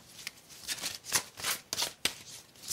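Oracle cards are shuffled and drawn quietly up close, a run of soft, papery riffles and flicks in irregular bursts with no talking.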